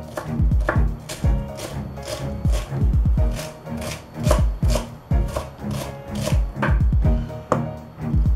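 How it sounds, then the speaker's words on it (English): A knife chops celery on a cutting board in quick, regular bursts of sharp close taps, loud and steady with short pauses between runs and no talking. "Now, I'm gonna cut up 1/4 cup of celery."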